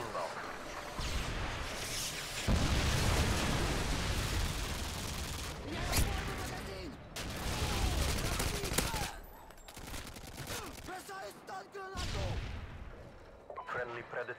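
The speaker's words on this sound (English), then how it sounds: "Friendly Predator missile inbound." Predator missile strikes in a video game: heavy booming blasts and crackling explosions roll through a dense, loud barrage, with bursts of gunfire and brief lulls in between, under game voices.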